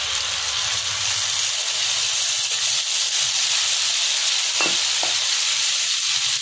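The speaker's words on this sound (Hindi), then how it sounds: "प्याज को भी हम हल्का सा भून लेंगे" Chopped onion and garlic lightly frying in a pan for a black chickpea soup, a steady close sizzle and hiss running throughout with a couple of faint utensil clicks, no talking.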